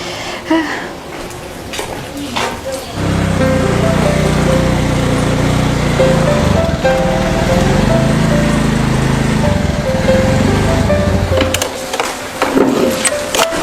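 Small motorbike engine buzzing nearby, rising in at about three seconds and holding a steady putter before fading, with a few brief sounds around it.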